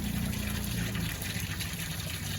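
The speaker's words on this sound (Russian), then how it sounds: "Местные сказали, нужно открыть кран." Water gushing from an opened outdoor tap on a winter seafront in Yalta, Crimea, a steady, close rushing flow with no voices over it.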